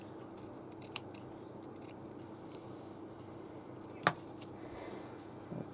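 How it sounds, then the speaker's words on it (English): Scissors snip the overlocked seam off a piece of linen in a few quiet, sharp cuts against a soft room hush, with one crisp snip clearly louder than the rest. "I'm just going to cut the overlocking off the back to make it less bulky there."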